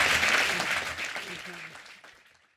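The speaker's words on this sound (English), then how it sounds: "Applause for our speakers, Saul Kripke and Romina Padro." An audience at a philosophy lecture applauds the speakers, a full round of clapping that starts strong and gradually fades out to silence.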